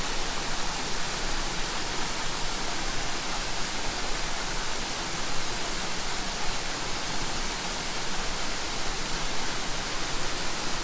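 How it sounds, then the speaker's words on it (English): A forest waterfall cascade pours in a dense, steady broadband rush, close and continuous from start to finish with no other sounds over it. "Getting distracted now because there's another cascade down here."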